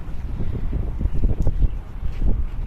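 Strong, gusty wind on a waterfront buffets a microphone steadily, a rough, rumbling roar that swells and surges without letup.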